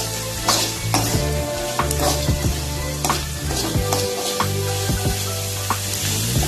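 Chopped shallots sauté in a hot pan with a steady, loud sizzle, broken by repeated spatula stirs and scrapes against the metal, while the base for paniyaram is cooked.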